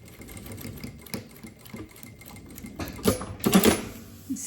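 Sewing machine stitching a bag lining, a soft rapid run of needle clatter building to a louder, busier burst near the end with short pauses between.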